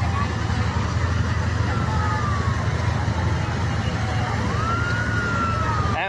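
A fire truck siren wails and sweeps in pitch at a building fire in Taguig City, heard at moderate distance over a constant noisy crowd and street bustle.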